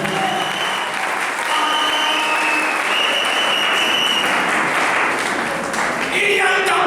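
A church congregation breaks into sustained applause, a loud dense clatter of many hands filling the room, with voices calling out and cheering beneath it.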